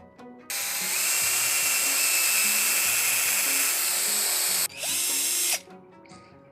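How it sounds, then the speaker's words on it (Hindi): Power drill boring a hole in a guitar neck, a loud, close, steady high whine for about four seconds, a brief pause, then a second shorter burst. "अब होल बना लेते हैं।"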